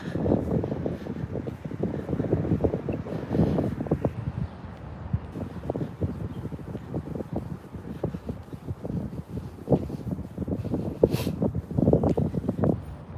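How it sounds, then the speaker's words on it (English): Gusty wind buffets the microphone on a Philadelphia city street, a steady low rumble that swells and fades across the whole stretch with no clear pauses. "Now, just because I said it wasn't windy, now it's windy."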